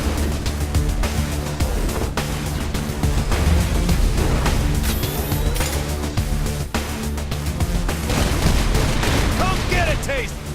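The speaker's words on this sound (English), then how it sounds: "now we're going to pull out one of our secret weapons," White House turret firing in the video game Saints Row IV, sustained rapid gunfire and explosions in a dense, loud barrage with voices speaking over the chaos.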